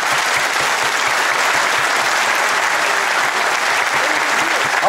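An audience at a talk in Rancagua claps, a dense, loud round of applause lasting throughout, steady and close, with no pauses.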